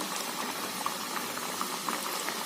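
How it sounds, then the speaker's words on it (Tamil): Coconut vada fries gently in oil on a low flame, giving a continuous soft, even bubbling sizzle that holds steady throughout with no voices. "இதை திருப்பி போட்டுக்கலாங்க சிம்லேயே வச்சாதாங்க உள்ளுக்குள்ளே நல்லா வேகும்"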